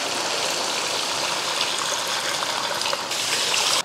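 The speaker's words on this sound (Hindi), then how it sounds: "अब इसमें हम पानी ऐड करेंगे, तकरीबन 5 से 6 गिलास।" Water is poured steadily from a glass into cooking masala of onion and tomato for chicken malai tikka pulao, a continuous close splashing gush with a brief break near the end.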